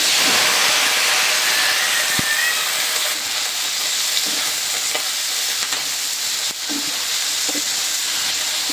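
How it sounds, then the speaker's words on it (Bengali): Chopped potatoes sizzle and hiss steadily in leftover fish-frying oil for a Bengali bele fish dish, a dense continuous crackle with occasional stirring scrapes close by and no voices. "ভেজে রাখা মাছের তেলের মধ্যে আমি আলু কুচিগুলো দিয়ে দিব"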